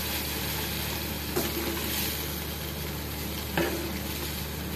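A pot of curry simmers on the stove with a steady soft bubbling sizzle and a constant background hiss, close by. Two brief clinks or stirs break the even sound.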